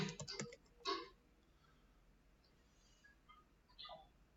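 Quick bursts of keystrokes on a computer keyboard, a few clustered clicks in the first second, then faint scattered taps fading into quiet room tone.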